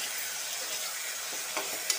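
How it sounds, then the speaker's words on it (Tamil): Onion and tomato sautéing in a pan for tomato rice give a steady, faint sizzle throughout, with a few soft scrapes from stirring near the end. "வெங்காயம் 1 நிமிஷம் போல் வதங்கி வரட்டும்."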